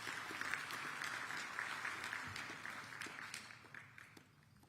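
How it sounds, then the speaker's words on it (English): An audience at a formal event in Addis Ababa bursts into dense, sustained applause that gradually thins and fades toward the end, heard alone at moderate distance. "Please, a round of applause."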